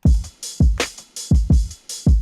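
A sampled drum loop from a producer's sample pack plays alone, with punchy kicks and crisp snares and hats in a steady repeating groove, loud and close.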